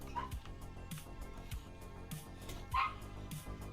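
A dog barks in State of Decay 2, a couple of short yips breaking through the game's steady music and ambience, the clearest one near the end.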